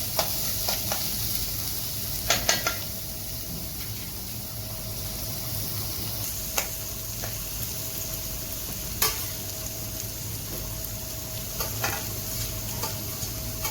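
Ingredients for kara kuzhi paniyaram, with salt and green chillies, sautéing in a pan: a steady broadband sizzle runs throughout, with occasional sharp clicks and scrapes from stirring, close and fairly loud, with no talking.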